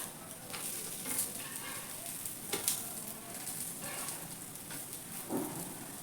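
Brinjal slices fry on a hot tava for crispy baingan fry, giving a faint, steady oil sizzle with soft crackles and no talking.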